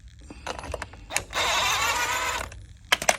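A socket wrench removes the nut from a golf cart's rear brake drum: scattered metallic clicks and clanks, then about a second of sustained grinding ratchet-like whir, followed by a few sharp metal knocks close by.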